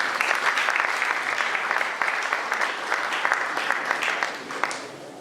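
Audience applause filling the whole stretch for a team at a political gathering in Congo, dense and sustained with scattered sharper claps and little change in level.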